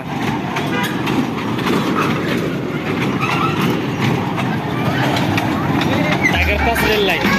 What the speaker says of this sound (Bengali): রেলগাড়ি না তো এটা